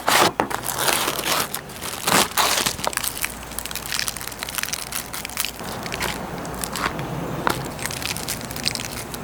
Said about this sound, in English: So now I'm just going to take off the packaging and go ahead and season these up.